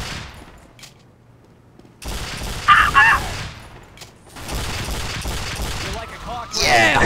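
Rapid gunfire rattles in several loud bursts in the video game Team Fortress 2, mixed with other game effects and a player's excited talk.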